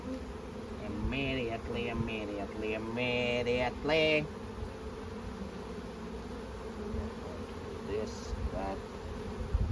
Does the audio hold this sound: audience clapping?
no